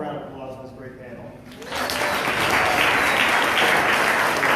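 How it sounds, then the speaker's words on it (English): A crowd at a panel event during Lobby Day in Richmond breaks into loud, sustained applause that swells after a quieter start and holds steady to the end. "let's give one more round of applause for this great panel"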